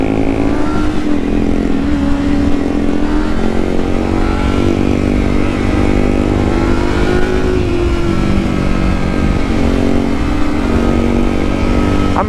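Yamaha MT03 motorcycle engine running loud and close, a rough steady rumble with gentle rises and falls in revs throughout, no talking.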